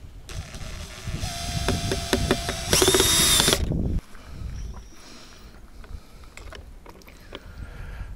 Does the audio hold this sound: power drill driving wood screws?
yes